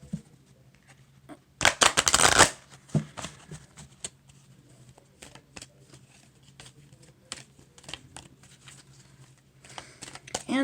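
A tarot or oracle deck is riffled in one quick, crisp burst near the start, followed by light taps and faint handling noises.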